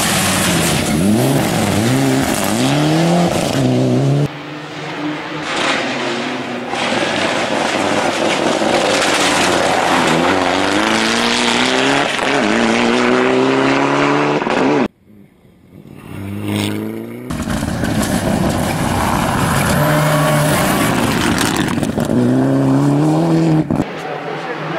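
Mitsubishi rally car racing flat out on a gravel stage road of the Argentine rally in Córdoba: loud, close engine revving through rising and falling gear changes, with a brief lull before the roar returns, under crowd noise.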